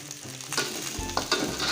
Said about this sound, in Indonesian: nasi gorengnya hampir masak